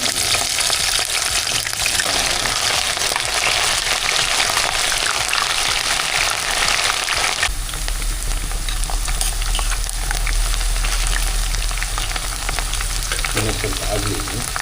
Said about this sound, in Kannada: ಈ ರೀತಿ ಕಟ್ ಮಾಡಿ ಇವಾಗ ಇದನ್ನು ಫ್ರೈ ಮಾಡೋಣ, ಸರಿನಾ? ಎಣ್ಣೆ ಚೆನ್ನಾಗಿ ಬಿಸಿಯಾಗಿದೆ.